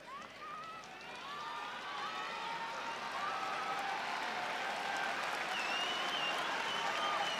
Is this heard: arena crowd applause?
yes